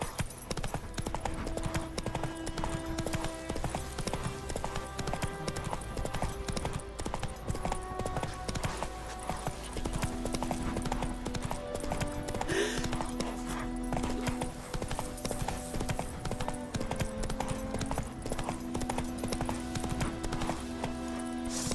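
Horse hooves galloping in The Witcher 3 beat in a continuous fast clip-clop, near and prominent, layered over sustained game music for the whole stretch.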